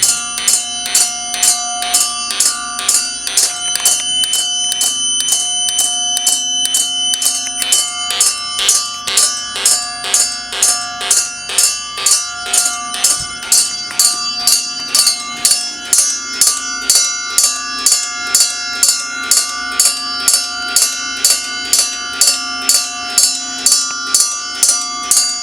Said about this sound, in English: That bell is really loud